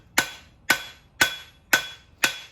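Five evenly spaced hammer blows strike hot metal on an anvil at a coal forge, each a sharp ringing clang that decays quickly, close and loud with no talk.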